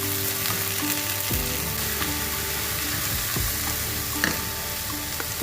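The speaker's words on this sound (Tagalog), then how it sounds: "Gisa din natin para mas masarap." Corned beef and onions sauté in a hot pan, a steady close sizzle with occasional stirring scrapes and a few utensil knocks, no voices.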